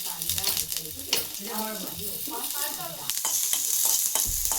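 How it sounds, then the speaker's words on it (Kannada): Four green chillies frying in oil in a pan, a bright steady sizzle with scraping stir strokes, while someone speaks over the cooking. "ನೋಡಿ ಇದನ್ನ ನೀಟಾಗಿ ಫ್ರೈ ಮಾಡ್ಕೋಬೇಕು. ಫ್ರೈ ಮಾಡ್ತೀನಿ."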